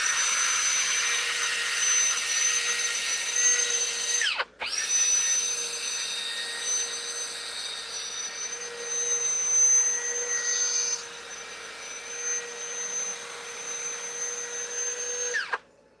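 A wood lathe spins a turned piece while it is sanded with 240-grit paper, a loud steady whine that briefly cuts out and restarts, then ends as the motor spins down.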